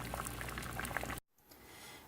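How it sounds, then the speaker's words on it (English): A pot of vegan chickpea and lentil stew boiling, a dense steady bubbling and popping heard close up for about a second before cutting off and returning more faintly. "now the stew is boiling"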